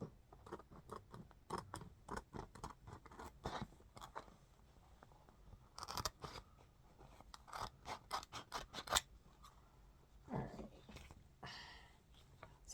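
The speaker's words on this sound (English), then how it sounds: "So I'm just going to be cutting this out." Scissors snip out puzzle-piece shapes for a homemade autism-awareness tree skirt, giving a long, uneven run of close, crisp cuts and rustles with brief pauses between strokes.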